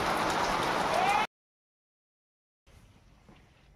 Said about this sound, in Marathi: खूप मोठाचा पाऊस आलाय